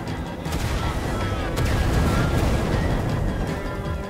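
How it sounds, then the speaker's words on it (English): Wither skulls being fired in Minecraft Story Mode, a dense, continuous barrage of booming blasts and crackling impacts that rumbles steadily throughout, with a few sharper hits standing out. "shooting wither skulls, not meteors."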